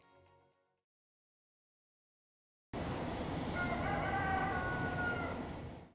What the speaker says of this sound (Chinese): 我是伴随着清晨的鸡鸣啊，闻鸡起舞而起来的